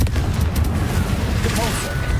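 A Confringo spell explosion in the video game Hogwarts Legacy: a deep, rumbling boom that swells and lingers briefly, loud and close, with faint higher magical crackles over it.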